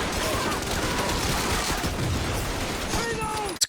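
Dense, sustained battle gunfire from the WWII TV series The Pacific, rapid overlapping shots in waves of Japanese soldiers charging, loud and continuous, ending with a sharp burst.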